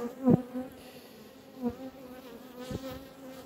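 Honey bees buzz near the microphone at an open beehive full of stored honey and brood, with individual bees droning past in swells over a quiet hum.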